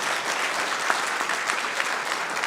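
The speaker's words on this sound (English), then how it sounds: "let's give her a round of applause" A city council meeting audience applauds a speaker, a dense continuous patter of many hands clapping at an even, fairly loud level for the whole stretch.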